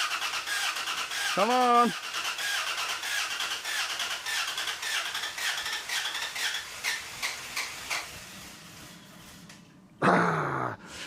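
A 2001 Dodge Dakota engine cranks steadily for several seconds without catching, a fairly faint rhythmic churn, then a brief louder burst near the end; a voice speaks and others talk over it.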